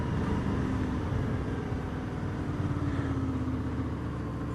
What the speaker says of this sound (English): every time I listen to this thing downshift and listen to that engine pull down, that engine braking